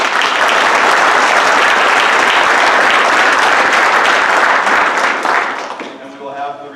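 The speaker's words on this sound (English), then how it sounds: "can we give those individuals a round of applause?" Steady, loud applause from a crowd at an FFA banquet, sustained for several seconds before tapering off as a voice begins to speak.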